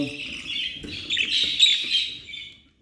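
Budgerigar chick, a cobalt female, giving thin rising chirps and squeaky calls while being handled, close and alone for a few seconds before falling silent.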